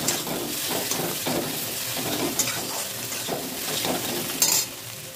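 Egg tadka frying with tadka masala in mustard oil, a dense sizzle broken by repeated spoon-against-pan stirring scrapes and a sharp metallic clink near the end, close up with no speech.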